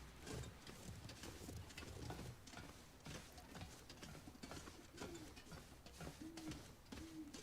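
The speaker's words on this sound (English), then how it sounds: "Okay, that's an owl." An owl hoots in the snowy wilderness of The Long Dark, a few soft, low hoots repeating toward the end over a bed of rustling noise and faint footsteps.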